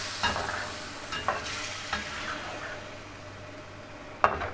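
Chopped tomatoes and tomato paste cooking down with beef in a karahi for bhuna gosht, a steady low sizzle with a few soft scrapes and clinks of a spoon against the pan spread through, close and moderately quiet.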